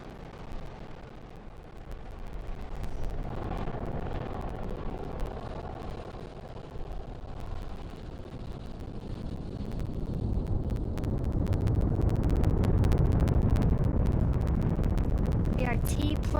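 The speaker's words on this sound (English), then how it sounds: "we are currently firing all 9 of those M1D engines" Nine Merlin 1D engines of a SpaceX Falcon 9 roar steadily during liftoff, a broad rumbling blast that swells louder after several seconds and holds strong throughout, with voices faintly under it.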